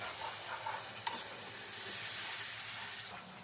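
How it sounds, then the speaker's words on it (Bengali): Spice paste for fish rezala frying in oil, a steady close sizzle with soft scraping as it is stirred, one sharp tap near the start and a slight drop in level at the end. "মশলাকে ভালো করে কষিয়ে নিতে হবে।"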